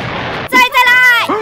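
Bombs exploding in the physics-building game Besiege, with a dense roar of blast noise fading over the first half second before a voice starts speaking over the quieter tail.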